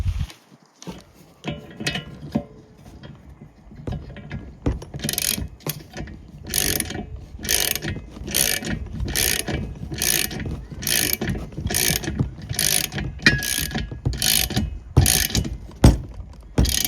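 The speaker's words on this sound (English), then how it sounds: "we're going to need a ratchet to hold it on the other side" A hand ratchet clicks in quick repeated bursts while tightening a bolt on a Young Electric hitch-mounted eBike car rack, with rhythmic metallic ratcheting strokes close by after some lighter handling noises.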